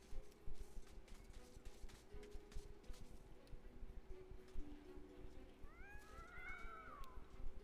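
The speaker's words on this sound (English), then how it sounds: "There are cats here now." Cats meowing in the MediEvil video game: a couple of rising, wavering meows near the end over steady droning game ambience and crackly background noise.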